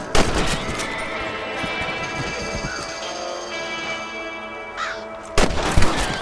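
Rifle gunshots in Red Dead Redemption, with a sharp crack at the start and another loud pair near the end, separated by a stretch of ringing, tonal game ambience.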